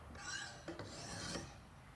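Used shears blade drawn across an EzeSharp blade sharpener with wedge attachment, a brief close scraping rasp in a couple of quick strokes, quiet and alone.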